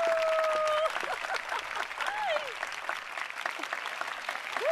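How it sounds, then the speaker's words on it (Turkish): A studio audience breaks into applause to welcome a guest onto a live show, dense clapping that starts strong and continues, mixed with a few crowd shouts and a brief whistle near the start. "Bir daha fazla bekletmiyorum ve dahi doktorumuz Cevahir Ballıoğlu'nu alkışlarımızla"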